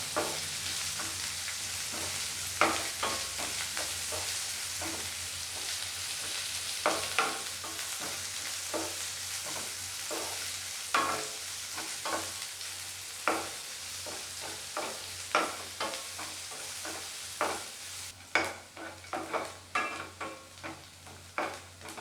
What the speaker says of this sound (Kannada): ನಾಲ್ಕು ಹಸಿ ಮೆಣಸಿನ್ಕಾಯಿ ಹಾಕಿ ಫ್ರೈ ಮಾಡತ್ತೀನಿ